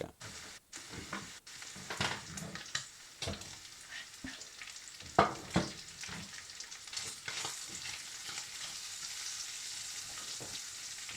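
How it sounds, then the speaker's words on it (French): Onions tossed into a hot pan for pasta carbonara, a sudden burst of sizzling followed by scraping stirs and a settling, steady frying hiss, close but moderately quiet. "Alors je balance mes oignons avec."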